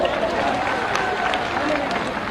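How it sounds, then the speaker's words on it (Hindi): A crowd claps loudly for Giriraj at a political event in Bihar: a continuous wash of applause with voices mixed in underneath. "गिरिराज के लिए भी ताली बजा दो जोर से।"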